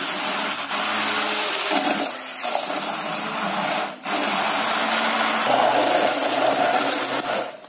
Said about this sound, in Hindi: मैं इसको आज हैंड ब्लेंडर से बना रही हूँ